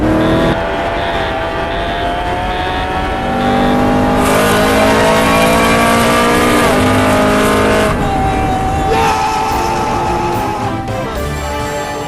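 A race car engine in a racing video game revs loud and continuous, its pitch climbing through the gears and dropping on shifts near the end of a lap, with brief tire squeal.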